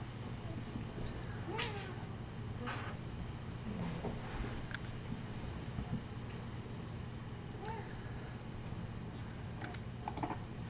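A cat meows several times indoors, short moderately faint calls scattered over steady computer keyboard typing and a low hum, with no talking.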